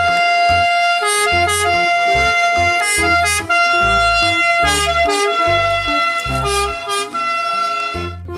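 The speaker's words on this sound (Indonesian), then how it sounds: "lihat teman-teman, ada mobil ambulan." A toy ambulance plays a loud, bright electronic siren looping through a jaunty repeating tune with punchy beeping tones, close by.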